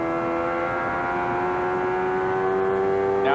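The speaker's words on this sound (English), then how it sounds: "As we follow Bozell, you can hear the engine of Nigel Mansell in the background." Nigel Mansell's 1993 Indy car engine at the Milwaukee race, a steady high-pitched whine held at constant pitch throughout, loud and continuous with no talk.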